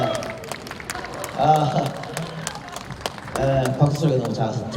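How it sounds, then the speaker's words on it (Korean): Scattered hand claps come from the crowd at a live talk-show concert in Gwangju, mixed with voices and cheering. The clapping rises in short waves rather than building into a full ovation. "박수 소리가 너무 작아서 들어가야겠어요."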